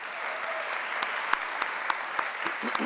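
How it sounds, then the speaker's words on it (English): Steady applause from a crowd, a dense patter of clapping with a few sharper claps standing out, continuing throughout. "please give them a nice round of applause"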